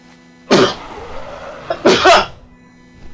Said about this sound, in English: Whew, sneeze fit.